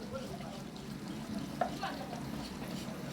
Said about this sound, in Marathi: मस्त परतून घेऊया आता कांदा.